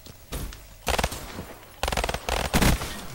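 Pistol fire in Black Ops 3 Gun Game crackles in rapid bursts, with a short burst, a pause, then two denser volleys of sharp, loud shots and no talk over them.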